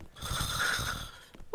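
A single drawn-out snore with a rough, rumbling rasp, fairly close and steady, then a brief pause and a short snort-like sound at the end.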